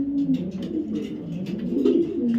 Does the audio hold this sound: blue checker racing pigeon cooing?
yes